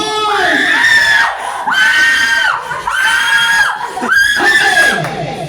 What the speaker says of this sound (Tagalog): Sumigaw ang boys!